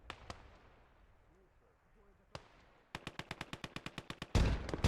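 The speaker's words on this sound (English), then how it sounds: "We're seeing some pretty tight grenade action here from both players in the middle." Grenade explosions and gunfire in the WWII game Gates of Hell: Ostfront on the Kalinin map: a few sharp distant blasts, then a rapid evenly spaced burst of about a dozen shots ending in a loud heavy explosion.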